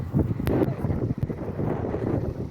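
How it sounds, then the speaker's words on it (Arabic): Gusty outdoor wind buffets the microphone in low, uneven rumbling bursts for a couple of seconds. "الريح اليوم"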